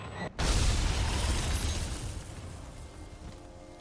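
Alatreon's Escaton Judgement attack in Monster Hunter World: Iceborne, an arena-wide blast: after a brief hush, a sudden massive explosion erupts loudly and rumbles on, slowly fading over the next few seconds.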